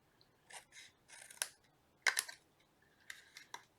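Scissors cutting through paper boxes for a craft project, several close, crisp snipping strokes in short irregular bursts with quiet pauses between them.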